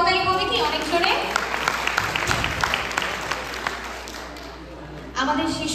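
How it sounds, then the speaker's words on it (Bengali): Audience applauding child reciters at a Bengali New Year (Boishakh) celebration: sustained clapping from a crowd, loud and steady for several seconds, tapering slightly before a fresh burst near the end, with a voice over the opening moments. "আমাদের এই ক্ষুদে আবৃত্তি শিল্পীদের জন্য আরেকটি করতালি হবে কি অনেক জোরে?"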